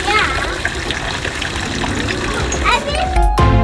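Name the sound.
water splashing in a fountain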